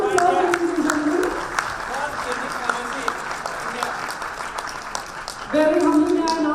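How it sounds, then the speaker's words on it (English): Audience applause at the Pharma Ratan 2018 award ceremony, a steady broadband wash of clapping running the whole stretch, with a voice talking over it and music or a louder voice swelling near the end. "Huge round of applause, ladies and gentlemen."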